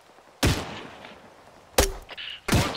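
Gunfire on a checkpoint in ArmA 3: three separate heavy shots, each loud and sharp with a booming tail, spaced irregularly over a quiet background.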